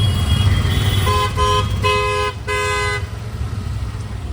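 Busy road traffic with a steady engine rumble, broken by several car horn toots, some short and some held, in a run over a few seconds.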